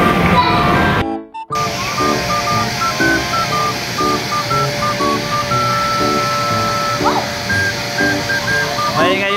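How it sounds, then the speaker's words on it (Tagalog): A vacuum cleaner runs with a steady, loud whir and a thin tonal whine, briefly cutting out near the start, while people talk over it. "Maingay yung vacuum"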